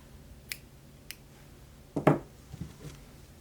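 Scissors snip crochet yarn after a coaster round is finished: a couple of faint, sharp clicks, then a louder close cut with a short rustle afterward.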